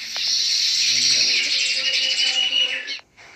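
A baya weaver bird near its hanging woven nest on a tree gives a bright, sustained whistling trill with chirpy notes, fairly close and clear, stopping abruptly near the end.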